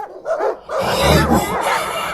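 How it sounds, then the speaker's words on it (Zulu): Dogs barking near a place where water is drawn, a few bursts and yelps close by and fairly loud, with low rumbling underneath through most of the stretch. "Eduze nendawo lana okukhiwa kuyamanzi kukhonkotha izinja zikaMaNkosi."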